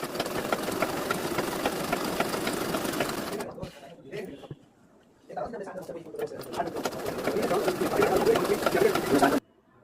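A pico sewing machine runs in fast whirring bursts while stitching the edge of a saree, stopping briefly in the middle before resuming loud and close, with faint bird cooing in the background.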